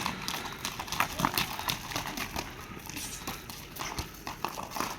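Horse hooves clip-clopping in a steady, fairly close rhythm of repeated thuds, with faint background sounds.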